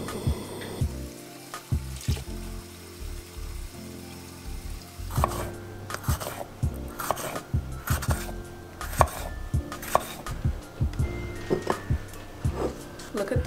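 A knife chops king oyster mushrooms on a board in a home kitchen, sharp knocks starting sparse and then settling into a steady, fairly quick rhythm, close and clear, with a faint sizzle behind.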